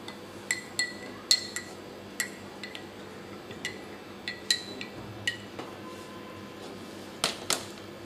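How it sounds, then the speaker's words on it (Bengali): A metal spoon stirs Moringo into water in a glass, producing a dozen or so sharp, bright clinks at irregular intervals against a quiet background. "চামচ দিয়ে আমি এটা গুটিয়ে দিচ্ছি।"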